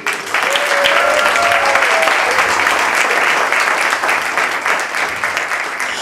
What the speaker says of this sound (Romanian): Să aplaudăm pe doamna profesoară Dana Măisiu.